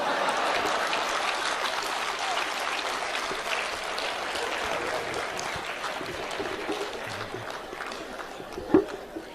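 Live audience at a Hindi comedy poets' conference claps in a sustained, dense wave of applause that starts loud and gradually tapers, with a sharp single knock near the end.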